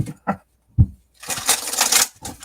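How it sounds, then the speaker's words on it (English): Quick soft taps and thumps give way to a steady papery riffling of tarot cards being shuffled close by on a desk, with no talking. "when I start shuffling cards, I have no room."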